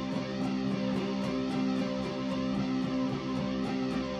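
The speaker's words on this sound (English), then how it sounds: "the whoosh kind of moves up and down as I just like strum that basic power chord" An electric guitar strums a basic power chord through a flanger effect, a sustained whooshing tone that sweeps up and down steadily, with faint rhythmic pulses, played alone.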